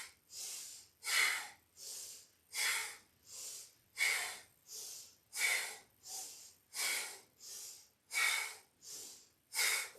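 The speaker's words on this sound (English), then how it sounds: "Keep pulsing that breath" Rhythmic forceful yoga breathing, pulsed exhales roughly every three-quarters of a second, each a breathy rushing puff, close and alone with short quiet gaps between.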